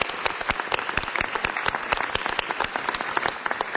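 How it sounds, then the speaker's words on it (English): Applause at a city council meeting, brisk close clapping with distinct individual hand claps in a steady, lively patter from the room. "So let's give them big applause."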